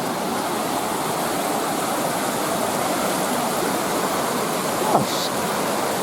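A swollen river overflowing its banks near a beetling mill, rushing water roaring in a steady, dense wash that stays constant and fairly close throughout, with no pauses.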